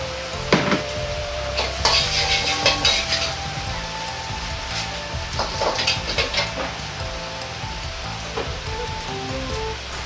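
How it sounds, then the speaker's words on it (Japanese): Steady sizzling of garlic frying in hot oil in a pot, with occasional clinks and scrapes of stirring, close and continuous. "鍋に油を入れニンニクを香りが出るように炒めます。"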